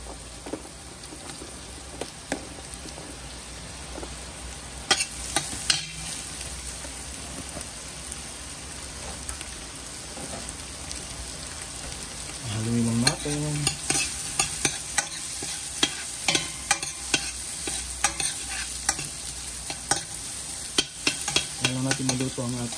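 Ginger, garlic and onion sautéing for chicken tinola, a steady crackling sizzle like light rain, growing busier midway with repeated spoon knocks and scraping against the pot, nearby and without talk.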